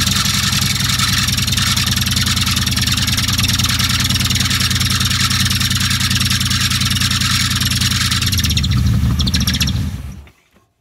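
1998 Ford Windstar engine, revived after sitting 14 years, running close by with a loud, steady idle and slight intermittent skipping from a binding belt or tensioner, wavering briefly before cutting off abruptly near the end.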